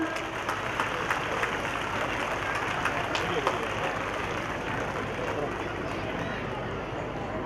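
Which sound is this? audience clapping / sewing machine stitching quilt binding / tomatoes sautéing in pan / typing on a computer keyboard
audience clapping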